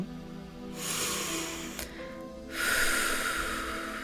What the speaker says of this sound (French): de prendre une grande inspiration